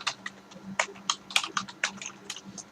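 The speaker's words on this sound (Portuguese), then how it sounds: "O keycode igual a 10 significa que eu estou pressionando a tecla Enter." Keys clacking on a computer keyboard, a quick irregular run of sharp close taps with no talk over it.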